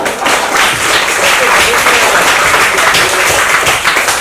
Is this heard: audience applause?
yes